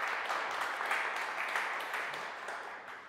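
A studio audience applauds to welcome a guest onto a stage show, a steady wash of clapping that holds evenly throughout and tapers slightly at the end, with no voices over it.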